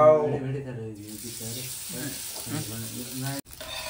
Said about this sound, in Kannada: ಈಗ ಫ್ರೈ ಮಾಡ್ತಿದ್ದೆ ನಾವು